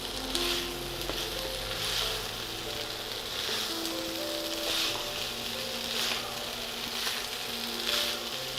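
Schezwan fried rice sizzling steadily in a pan as it is stirred slowly, with a continuous frying hiss and soft scraping pulses recurring about once a second, close and moderately loud with no talk.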